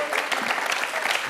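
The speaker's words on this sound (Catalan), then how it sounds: "Has vist, Tito, com m'aplaudeixen, Tito?" A studio audience applauds steadily and densely throughout, loud and close, on the set of a Catalan TV variety show.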